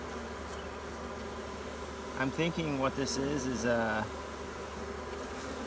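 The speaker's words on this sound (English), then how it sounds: "Two bees just fighting it out." Honeybees fighting at a hive during an apiary reconfiguration, a close, agitated buzzing that surges in pitched bursts for a couple of seconds over a steady background hum of insects, with someone talking briefly.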